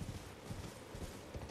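Horse hooves in the video game Elden Ring clop in a steady, even rhythm, faint and close, with no voices over them.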